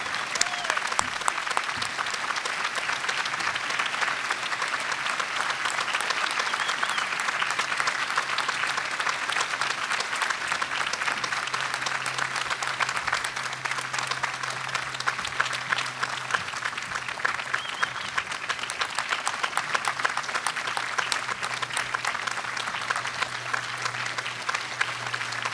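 A commencement audience at Wofford College applauds an award recipient in one long, dense, steady wave of clapping that lasts the whole stretch, with a faint low hum underneath.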